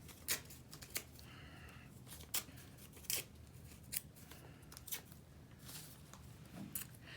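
Sheets of paper torn into pieces by hand, heard as a handful of short, sharp rips spaced irregularly over a soft background hiss, fairly quiet and close, with no talking.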